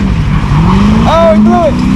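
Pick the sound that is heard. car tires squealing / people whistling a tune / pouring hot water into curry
car tires squealing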